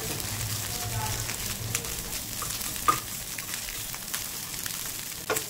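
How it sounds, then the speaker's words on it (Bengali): Small pieces of egg fry in a pan with a steady, moderate sizzle, joined by a few stirring clatters. A voice talks over the frying. "এবার ডিমটাকে একেবারে ছোট ছোট টুকরো করে ভেজে নেব"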